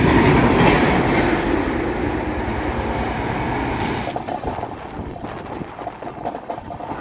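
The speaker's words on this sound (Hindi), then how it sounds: "पीछे से ताबड़तोड़ एकदम फुल रफ्तार से ओवरटेक करके आगे निकल रही है भाई।" The Lichchavi Express (14005) rushes past at full speed on an Indian railway line, a loud, roaring wash of wheel and carriage noise that gradually eases, leaving a rapid clickety-clack rhythm and no talk.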